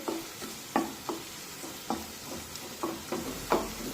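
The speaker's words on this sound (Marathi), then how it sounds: "या कांद्याला सतत असं परतत राहायचं म्हणजे मग तो व्यवस्थित सगळीकडून भाजला जातो।" Chopped onions fry in a pan for a sandge curry, giving a gentle sizzle under a rhythmic series of spatula scrapes and taps, close and clear, with no voices.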